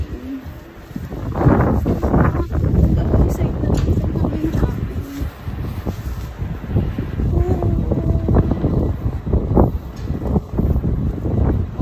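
Cold outdoor wind buffeting the microphone in Hong Kong, rumbling gusts that come and go while someone talks over them throughout.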